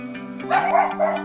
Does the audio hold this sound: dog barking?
yes